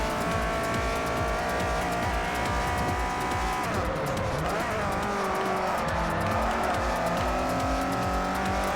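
Race car in Forza Motorsport 4, a loud, constant high engine drone shifting in pitch as it revs and eases, with tires squealing as the car slides through a corner, continuous and up close.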